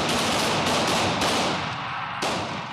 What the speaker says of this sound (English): you will draw and fire all remaining rounds in your own time